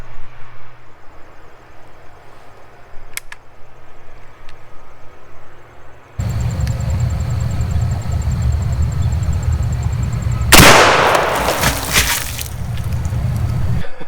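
A single loud, sharp gunshot from a Thompson Center Hawken muzzleloader rifle fires at a purple Gatorade bottle 25 yards away. It cuts through steady outdoor wind-like rumble and leaves a short decaying tail.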